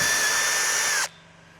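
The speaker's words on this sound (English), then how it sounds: "I'm just going to put a small hole to start with." A power drill whines at high speed boring a small pilot hole into the body panel of a Toyota GR Yaris, loud and close for about a second before cutting off abruptly.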